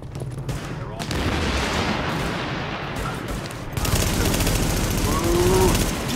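Sustained M4 assault rifle fire in The Division, dense rapid bursts that swell louder toward the end, with a voice reacting over it.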